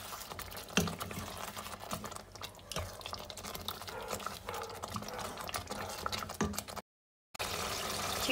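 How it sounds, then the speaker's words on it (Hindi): Mutton liver frying in a pan with ghee, a steady crackling sizzle with occasional louder pops and scraping, close and continuous with no voices. "और इसको मज़ीद 5-6 मिनट के लिए भून लेंगे।"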